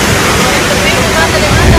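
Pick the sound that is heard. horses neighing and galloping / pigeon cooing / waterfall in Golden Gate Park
waterfall in Golden Gate Park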